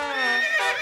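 A horse at a stable gives a loud, close whinny with a rising and falling pitch, then a second shorter neigh near the end, with no voices.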